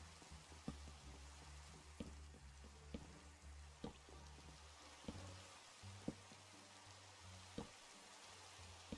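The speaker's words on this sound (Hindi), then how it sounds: "बारिश हो रही है" Steady, soft rain hiss in the video game Minecraft, with gentle patter throughout and faint rhythmic thuds and tones of gameplay underneath.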